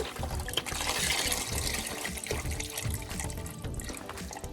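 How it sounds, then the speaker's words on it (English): Water from a tap runs and splashes steadily into a cooking pot for collard greens, a close, continuous gushing fill that lasts throughout with no talking. "And I am adding in the water."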